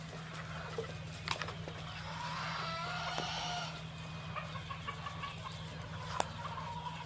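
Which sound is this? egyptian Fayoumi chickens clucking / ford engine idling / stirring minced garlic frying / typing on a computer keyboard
egyptian Fayoumi chickens clucking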